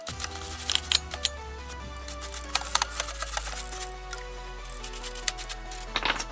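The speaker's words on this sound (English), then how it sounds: "My hard bristle brush, and kind of dip it in there and quickly just kind of scrub over the drivetrain." A hard bristle brush scrubs a mountain bike drivetrain in quick strokes, with close, irregular bursts of bristle scratching and brief pauses, heard alone without talk.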